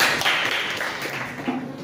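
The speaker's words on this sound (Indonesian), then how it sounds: "Tepuk tangan dong untuk kita semuanya." A class of students claps together in a dense, steady patter that lasts about two seconds at a fairly even loudness.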